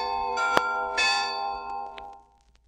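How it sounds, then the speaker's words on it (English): A bell rings a few times, bright metallic strikes with a shimmering ring that slowly fades away. "each time you hear the bell ringing"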